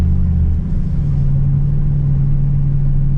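A turbocharged Chevy Colorado pickup on a drag strip makes a steady, loud engine drone that holds a constant rumbling tone across the pass, with no talk over it.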